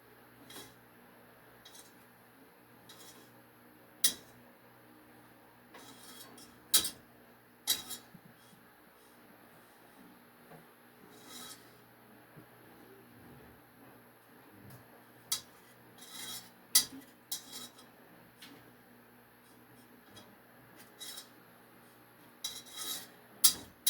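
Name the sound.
stirring homemade hand sanitizer mixture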